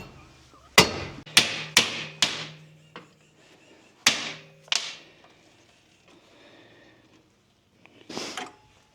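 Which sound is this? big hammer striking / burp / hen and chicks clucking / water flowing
big hammer striking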